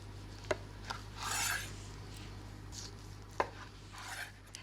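A knife cuts through rolled dough scrolls on a floured board, giving a few sharp, close taps and soft scraping strokes against the wood, with no voices.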